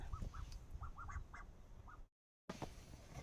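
Ducks quacking close by in a yard, a run of short nasal calls in quick succession, then a brief dropout before further rustling and calls.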